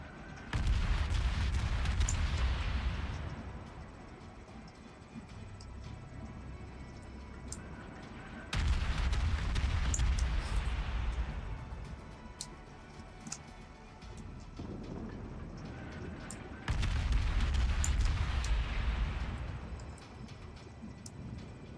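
Heavy ship guns firing in the World of Warships naval battle game, with the Soviet destroyer Shchors unleashing three loud booming salvos spaced several seconds apart, each rolling out into a long fading rumble.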